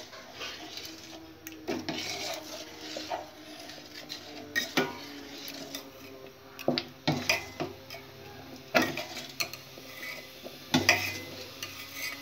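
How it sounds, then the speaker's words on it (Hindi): Chickpea greens in a pot being stirred steadily while gram-flour batter is mixed in, giving repeated close clinks and scrapes of a spoon against the pot over a low background. "अब इसे चलाएं अच्छी तरह से नहीं तो इसमें गुठलियाँ पड़ जाएंगी इसे हमें लगातार चलाना है"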